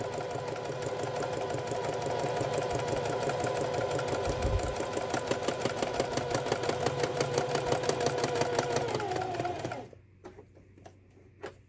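A sewing machine runs unthreaded during beginner practice, its steady fast needle rhythm loud and continuous for about ten seconds before stopping, leaving a few faint clicks.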